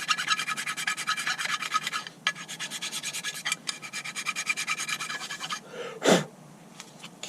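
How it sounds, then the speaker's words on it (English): Hand file rasping rust off the brake parts of a 2016-2020 Honda Civic during a front pad replacement, with a run of close, rhythmic scraping strokes and a short louder knock near the end. "And I'm going to use this just to file down any rust areas, just to make sure these new pads slide as well as possible."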